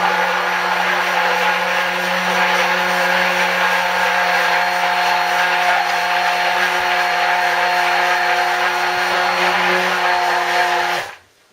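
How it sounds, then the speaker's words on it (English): A stick blender whirs steadily through cold-process soap batter, a loud continuous motor drone held for about eleven seconds before cutting off abruptly, with no voices. "I nearly dropped my stick blender then, that would have been a disaster."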